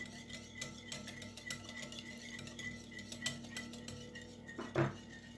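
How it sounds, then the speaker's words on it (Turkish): Dough ingredients and an egg are roughly whisked in a bowl, making quick, faint metallic clinks and scraping that repeat steadily, with one louder knock near the end. "Tekrar malzemelerimizi şöyle kabaca bir çırpalım"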